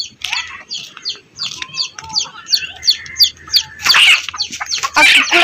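Village chickens tied up outdoors, clucking and chirping in a quick, repetitive series of short calls, close and fairly loud, with louder squawks near the end and faint background sounds.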